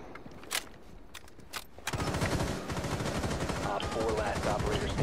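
Rapid bursts of automatic gunfire in Rainbow Six Siege, loud and sustained after a quieter stretch of scattered single shots, with a voice briefly heard over the shooting.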